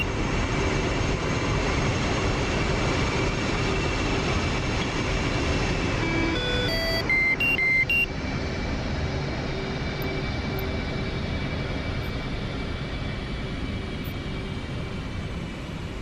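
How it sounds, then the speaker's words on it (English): Aircraft engines in the DCS flight simulator drone as a continuous broadband roar with faint whining tones, then shift and ease slightly lower as they are shut down, with no talking over it. "Let me just shut the engines down here quick"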